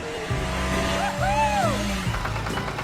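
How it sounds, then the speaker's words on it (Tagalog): A cartoon car speeds off with a rising engine rev and a swooping whistle-like tone, loud and close, over background music. "Mabilis na umandar ang kotse."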